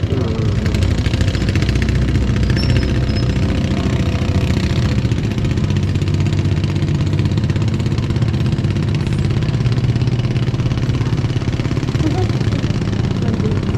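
A motorcycle engine idles and putters steadily nearby at a morning wharf in Bolinao, Pangasinan, with some clatter and people talking over it.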